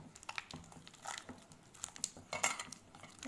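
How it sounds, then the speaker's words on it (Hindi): Banana being smashed by hand in a bowl while making Mangalore buns, giving soft squelching, crinkly, irregular sounds with a few sharper bowl clinks, close up and fairly quiet, with no talking. "अभी एक बाउल में आप बनाना ऐसे हाथ से स्मैश कर लीजिए"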